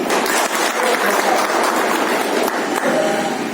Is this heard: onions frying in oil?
no